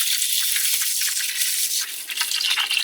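Water pours steadily onto rice in a saucepan for off-grid cooking, a loud, close, continuous gushing splash with no pauses.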